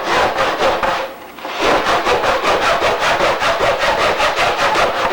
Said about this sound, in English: you come down here and sand this glass attachment